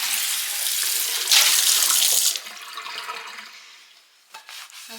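Running tap water rinses a spot out in a kitchen sink, a close rushing splash that swells briefly louder, then tapers off as the flow is shut and a few drips and clinks follow.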